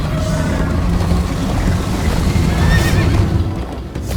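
A horse in the Minecraft Story Mode video game gallops with rapid clip-clop hoofbeats and whinnies loudly, heard up close over a rushing, noisy ambience.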